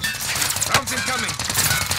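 Gunfire in Call of Duty: Modern Warfare: a dense run of close, loud rapid shots with a metallic rattle, mixed with game noise and voices.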